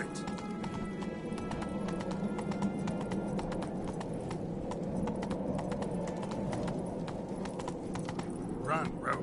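Roach the horse gallops in The Witcher 3, hoofbeats pounding in a fast steady rhythm under a dense bed of game ambience and wind, with a brief sharp call near the end.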